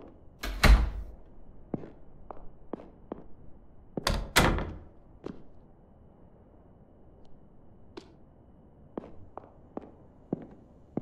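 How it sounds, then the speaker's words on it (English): Doors in a house being shut one after another: several sharp thuds and bangs spaced irregularly, two heavier slams standing out, with quieter knocks and footsteps between them and no talking. "I'm gonna shut all the doors."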